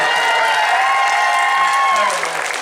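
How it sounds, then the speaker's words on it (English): A convention Q&A audience for the Fairly OddParents cast and creator applauds loudly and steadily throughout, with a few cheers mixed in. "let's applaud for these amazing people one more time"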